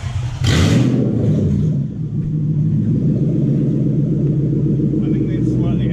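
Toyota 1UZ-FE VVTi V8 swapped into a Mk3 Supra, held at steady high revs around 4,000 RPM after a sharp blip, a loud continuous rumbling drone with people talking over it.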